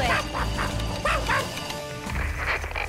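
A cartoon dog barks and yips in quick repeated bursts, close and loud, over background music.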